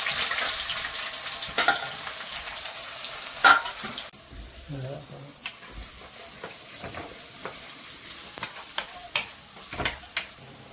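Onions and green chillies frying in hot oil for a small-fish nethili curry, a sizzle with stirring clicks and clatter, louder at first then settling to softer frying with occasional sharp taps.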